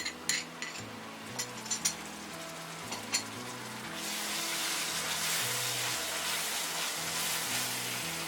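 Utensils clink against a pan for a few seconds, then onion paste hits the hot oil for a shahi roast and bursts into a loud, steady sizzle that continues to the end.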